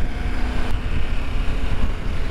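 A 2024 KTM 890 Adventure motorcycle engine running steadily while riding in fifth gear, a loud, constant drone heavily mixed with rushing wind noise, with no talking.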